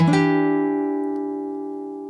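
A single plucked guitar chord of open A, D2 and G2 rings out and slowly fades, its open strings sustaining clearly with no other sounds.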